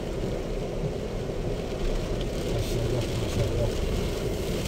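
A Chery Tiggo 7 Pro SUV grinds through mud on a rain-soaked forest track, producing a steady, dense low rumble of engine and churning wheels, with people talking faintly underneath.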